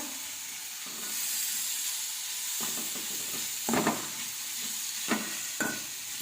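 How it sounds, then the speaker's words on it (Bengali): Flattened rice (chira) frying in ghee in a pan: a steady sizzling hiss throughout, broken by a few louder scraping stirs near the end. "এইও আমার 5 মিনিট একটু ভেজে নেব চিড়েটা ঘিয়ে দিয়ে"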